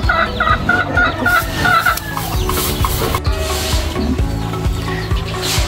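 Kelso gamefowl roosters and hens in square breeder pens, with repeated clucking and calling from several birds, fairly close and continuous.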